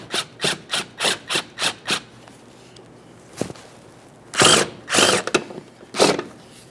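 A power tool drives the fuel pump mounting bolts on a Ford Fusion 2.0L, first as a quick series of seven short close bursts, then after a pause a few longer, louder whirring runs.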